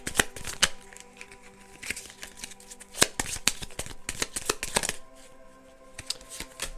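Tarot timing cards shuffled close up, with rapid riffling and crisp snapping bursts and a few sharper slaps, no talk over them.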